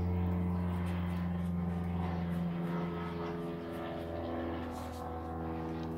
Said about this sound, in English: those planes are really having fun today out there